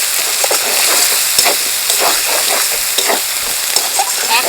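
A spice paste of ground cumin, salt and turmeric frying loudly in a pan for a fish curry, with steady close sizzling and scattered scraping stirs throughout.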